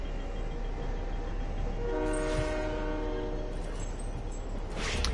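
A passing train in the video game Fortnite sounds its horn in a clear sustained blast over a steady rumbling roar, with no voices.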